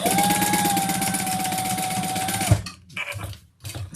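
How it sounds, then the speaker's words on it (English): A sewing machine stitches the sides of a fabric wallet with a fast, steady whirring hum for about two and a half seconds, then stops, leaving a few short, quieter handling sounds. "We're going to sew the sides."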